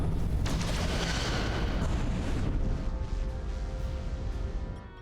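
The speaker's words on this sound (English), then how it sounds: "Fire photon torpedoes." Photon torpedoes fire in the video game Star Trek Resurgence, a loud booming barrage of blasts with a sharp crack near the start, rumbling on and fading toward the end.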